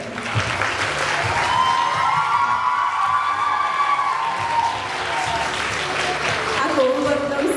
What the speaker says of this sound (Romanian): Iar noi să le aplaudăm!